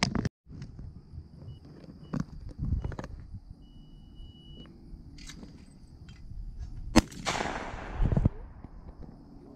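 Shotgun blasts at clay targets outdoors while preparing for dove and duck season, several sharp reports spread apart, one louder near shot late, with low background noise between.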